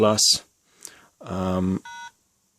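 Keypad beeps sound from a Motorola MicroTAC MR1 mobile phone: a few short, clear electronic tones close up, separated by pauses, with a brief voice at the start.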